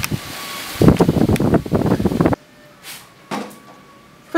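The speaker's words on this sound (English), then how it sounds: "It's a very windy day today" Wind gusts roar loudly across the microphone in the first half, then drop away to a quiet outdoor hush with a few brief rustling gusts.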